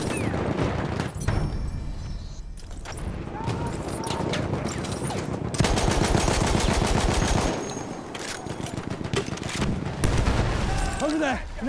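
Rapid bursts from a Benét Mercié machine gun rattle loudly in Battlefield 1 on the Suez Conquest map, long rhythmic strings of shots mixed with booms and explosions, and a voice speaks briefly amid the fire.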